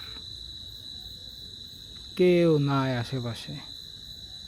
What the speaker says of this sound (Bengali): খালি শুধু ঝিঝি পোকা ডাকতেছে